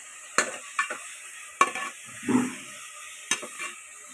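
Chopped tomatoes cooking with sautéed onions in a pan for chicken biryani: a soft low sizzle broken by several sharp spoon taps and scrapes against the pan, close and without speech.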